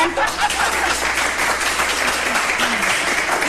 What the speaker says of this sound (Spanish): un aplauso para mis invitados de este segmento